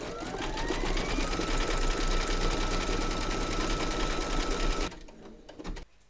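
Embroidery sewing machine stitching in black thread, a steady, loud rapid whirring hum with a rising whine for about five seconds before stopping abruptly, followed by a few faint clicks.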